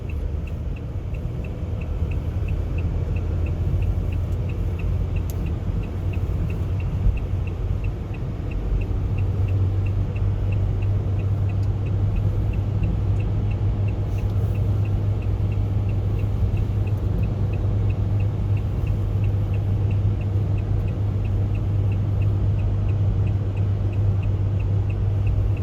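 Car driving the Nürburgring Nordschleife in the opposite direction during construction works, a steady low engine drone and road rumble held close and constant throughout with no talk.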